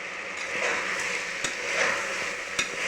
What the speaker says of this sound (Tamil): வெங்காயம், பூண்டு, பச்சை மிளகாய், மஞ்சள் தூள், பெருங்காயத்தூள், புளி, உப்பு, தக்காளி எல்லாம் போட்டு வதங்குது